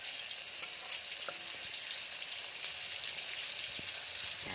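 Oyster mushrooms coated in spicy Kokit crispy frying batter deep-fry in hot oil, giving a steady, soft sizzle with scattered small pops and crackles and no talk.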